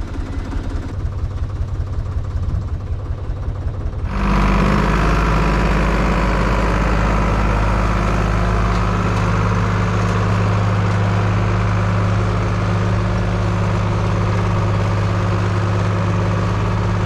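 An IHC 633 tractor idles in deep mud at a waterlogged field, a steady loud diesel drone after a quieter opening, running alone without voices for the whole stretch.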